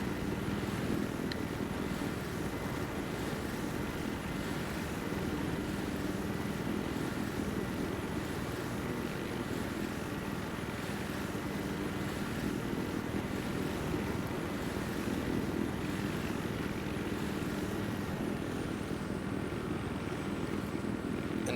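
A Little Bird helicopter flies in Battlefield 3 multiplayer on the Kharg Island map, producing a steady, continuous engine and rotor drone that holds at an even loudness throughout, with no voices.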